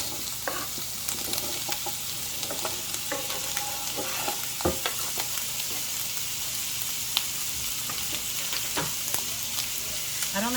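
Italian sausage sizzles in a pan with onion and green pepper for a quick spaghetti sauce, a steady bright frying hiss broken by occasional stirring scrapes and pops.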